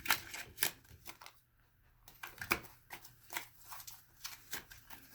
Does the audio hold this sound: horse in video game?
no